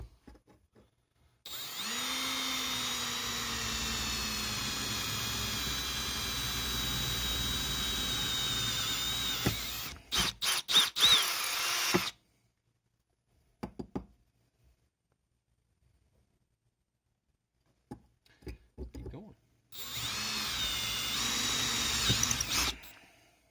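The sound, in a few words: drilling holes through a weed wacker muffler baffle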